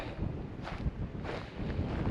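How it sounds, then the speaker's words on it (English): Strong wind gusts buffet the microphone on an exposed hiking trail above a valley, a loud continuous rumbling roar with no voices. "That's quite windy here."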